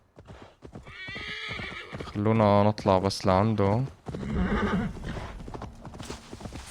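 Horse hooves clopping and a horse neighing loudly in Assassin's Creed Valhalla, with a drawn-out whinny in the middle while someone speaks over the scene.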